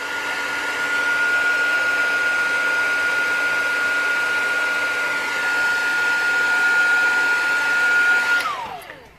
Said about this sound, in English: You can use a regular heat gun, your regular heat tool, but I'm going to use this because it's faster